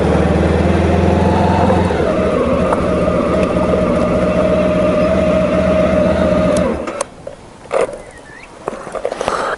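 A 1995 Honda ST1100 motorcycle engine runs loud and steady at close range with a constant droning idle, then cuts off abruptly, leaving faint outdoor background noise and a few small knocks.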